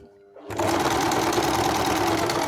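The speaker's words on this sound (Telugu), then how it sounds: "మీకు దాని పక్కనే కుట్టుకోవడం రాలేదనుకోండి, ఇట్లా దూరంగానైనా స్టిచ్ చేసుకుంటూ రాండి." Sewing machine stitching a zip onto a lehenga, starting after a short quiet moment and then running as a fast, steady, loud whir close by with no talk.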